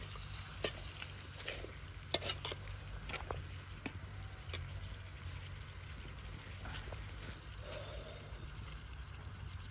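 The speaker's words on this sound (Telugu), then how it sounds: "దాన్ని బాగా మనము డీప్గా మిక్స్ అయ్యేలాగా చేయాలి" Tomato mutton curry frying in a pan, a low steady sizzle under scattered scraping clicks from a spoon being stirred through it, quiet and close with no voice.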